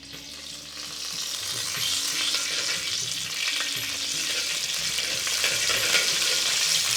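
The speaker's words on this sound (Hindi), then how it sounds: "अब ये क्यूमिन हो रहा है क्रैकल" Cumin seeds crackling in hot mustard oil in a pan, a dense continuous sizzle with fine popping that holds steady and slightly builds, close and moderately loud.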